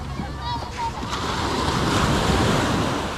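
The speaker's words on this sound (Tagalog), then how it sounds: "nakaka-relax yung mga hampas ng alon" Steady roar of ocean surf with waves crashing continuously on a beach where boats launch, loud and close, with wind noise and faint voices in the background.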